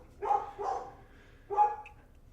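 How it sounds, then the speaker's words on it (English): Dog barking three times, two quick barks then a third after a pause, fairly close and loud with no talk over it. "Why do they have to bark every time I turn the camera on?"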